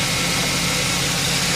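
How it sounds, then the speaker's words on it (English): A 2009 Chevy truck V8 with a cylinder two misfire idles nearby, a steady loud low rumble with a slightly uneven, pulsing texture and no talk. "This is a 2009 Chevy truck, V8 engine."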